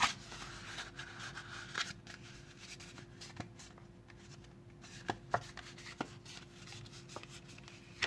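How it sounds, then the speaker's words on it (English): A sheet of paper folded in half point to point for a small gift bag, with soft close rustling and a few sharp creasing crackles and taps scattered through a quiet, hissy room. "Now we're actually going to start by folding it in half,"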